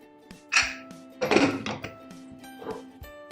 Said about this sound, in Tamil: கட் பண்ணி வச்ச கேரட்டை போடலாம்.